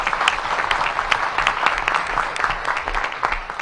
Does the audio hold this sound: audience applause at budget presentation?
yes